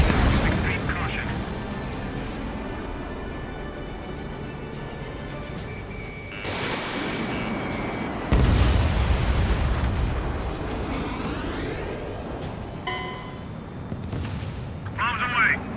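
Carpet bombing in the Ace Combat 7 video game: a long run of deep, rumbling explosions and booming blasts rolls on and off, loud and close, with radio voices talking over the barrage.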